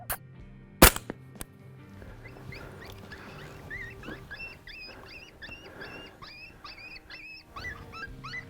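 A shotgun blast fired at a coyote on public desert land, one sharp loud report early on followed by a couple of quicker cracks, then a distant yipping animal call repeating in the background.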